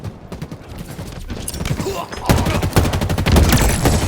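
An M40 assault rifle fires in Halo Infinite, with rapid automatic bursts growing louder and denser against game sounds, close and sustained, with a voice talking faintly underneath.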